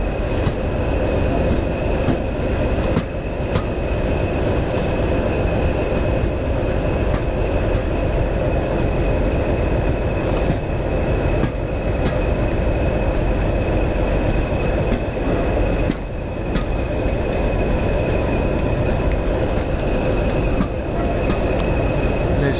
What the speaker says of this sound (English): There's a DMU 108.